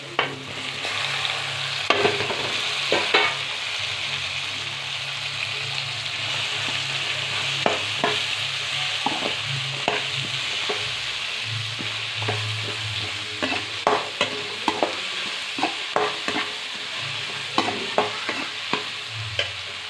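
Broad beans with tomatoes fry in a pan for sambar, a steady close sizzle broken by repeated scraping and tapping of a stirring spoon throughout.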